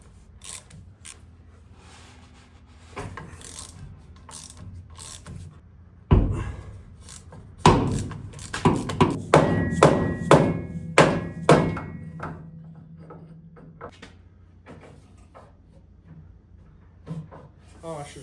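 Metal tool clicks, ratcheting and thunks come from work on the drive shaft bolts of a supercharged Ford F100, sporadic and close, with a sharp clank midway and someone talking intermittently over it.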